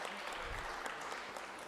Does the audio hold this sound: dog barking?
no